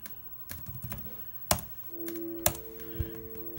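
A handful of quiet keystrokes on a computer keyboard, typed one at a time, with a faint steady hum entering partway through.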